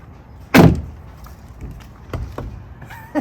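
Jeep Wrangler TJ door being pulled, one sharp loud thump or clunk up close, followed by faint rattles and light knocks.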